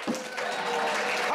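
Audience applause at an event, a steady wash of clapping at moderate distance and fairly faint, with a voice briefly audible at the start.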